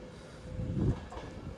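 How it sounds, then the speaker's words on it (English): A three-coach Northern passenger train arrives at platform 4 of Stockport station, heard as a low, steady rumble of wheels and engine that swells briefly, moderately near and fairly faint, with no talking. "the train now arriving into platform 4 is the 1348 Northern service to Manchester Piccadilly"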